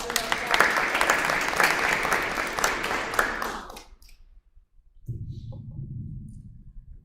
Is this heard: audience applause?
yes